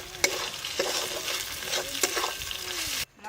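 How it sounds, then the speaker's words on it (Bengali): Chili paste, coriander paste, turmeric and salt stirred in a hot pan, a steady sizzle of frying spices broken by a few sharp scrapes of the spoon, close and moderately loud, no talk. "মশলাটা খুব ভালো করে নেড়ে নিতে হবে"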